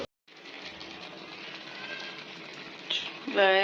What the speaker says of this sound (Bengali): সব কিছু একসাথে অ্যাড করা হলো চিকেন আলু আর সব রকমের মশলা দিয়ে একসাথে বসানো হয়ে গেছে